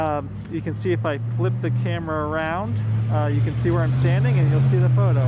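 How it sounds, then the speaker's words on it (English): Steady low road noise from cars driving along Main Street runs continuously under someone talking close to the microphone, with no single vehicle standing out. "Excuse the noise of the cars"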